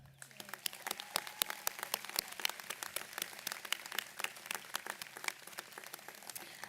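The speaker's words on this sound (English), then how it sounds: "Would everyone please join me in a round of applause for this effort?" A commencement audience claps in a moderately sized round, sharp individual handclaps scattered and overlapping steadily throughout, heard from some distance.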